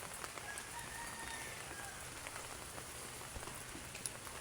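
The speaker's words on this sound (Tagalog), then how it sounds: "Umuulan eh." Steady rain during a typhoon patters on a surface, a soft continuous hiss with scattered droplet taps, fairly faint and constant throughout.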